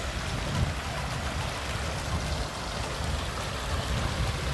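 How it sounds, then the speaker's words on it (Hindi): A mountain stream on the Panchachuli Base Camp trek rushes steadily into a crack in the ground, giving a continuous close-up roar of churning water with no pauses and no voices. "ये धार का सारा पानी क्रैक के अंदर जा रहा है।"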